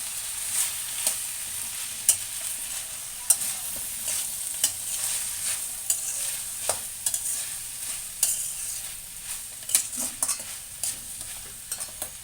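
Okra, potato and sweet corn stir-fried in a pan with salt, turmeric and chilli powder, a steady sizzle punctuated by frequent scraping strokes and light taps of a spoon, with no voices.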